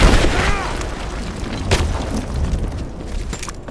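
Gunfire in the PS4 game Rise of the Tomb Raider: a loud burst and boom near the start, then a sharp shot mid-clip and scattered pops over a dense rumbling battle bed, with a voice shouting beneath.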